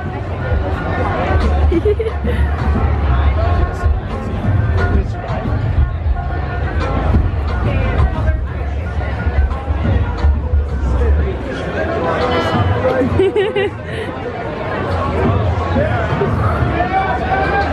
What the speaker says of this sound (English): the crowd is nuts